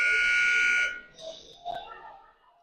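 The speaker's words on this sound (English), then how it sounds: "We're gonna have the buzzer sound here." The end-of-period buzzer at a girls' youth hockey game blares loud and steady for about a second inside the rink, then fades into faint arena murmur and noise.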